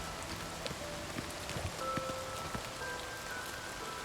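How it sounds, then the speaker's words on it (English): Rain falling in the video game Oblivion Remastered, a steady soft patter of raindrops over the game's ambient background, fairly even in loudness throughout with no talking. "now I finally see some raindrops"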